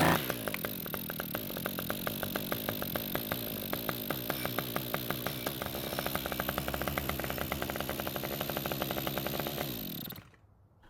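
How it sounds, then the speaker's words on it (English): A Toro string trimmer's small two-stroke engine, fed fuel sprayed into the carburetor, runs steadily for about ten seconds with a buzzy, rattling drone. It then cuts out abruptly into silence. "after spraying some fuel into the carb, it started and ran for quite a long time in fact"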